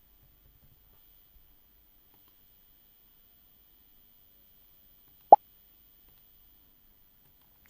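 A single soft pop from a Scratch programming sound effect, one short isolated click-like burst in otherwise near silence.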